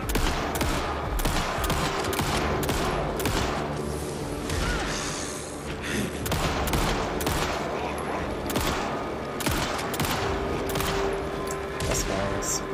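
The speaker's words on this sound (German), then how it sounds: "Unfair, dass die auch schießen." Enemy gunfire in the video game Alan Wake 2, with dense bursts of rapid shots and loud cracks packed together for the whole stretch, with brief lulls and occasional crashes, and a voice talking over it at times.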